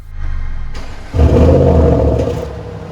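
An Audi RS6 engine revs hard at close range, opening with a steady rumbling idle before a sharp throttle blip swells into a loud, sustained roar that slowly eases off.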